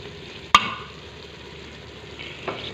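A spoon stirs chicken chana curry with garnish spices and fresh coriander, giving one sharp metallic clank against the pot, a soft scraping bubble, then a lighter second knock near the end.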